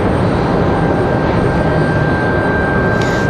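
A Frontier airliner taxiing slowly at Raleigh Durham airport gives a loud, steady engine roar with a constant high whine running through it, close by and uninterrupted.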